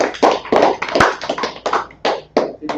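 Claps at a church service class: about eight distinct, fairly loud claps in a steady, slightly uneven rhythm, each a crisp slap with short gaps between them.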